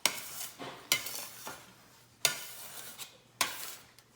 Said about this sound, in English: it works good to scrape up the extra flour off your counter